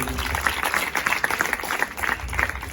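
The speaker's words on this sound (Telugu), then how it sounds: "చప్పట్లు కొట్టండి గట్టిగా." A church congregation claps loudly and steadily in a dense, continuous burst of applause.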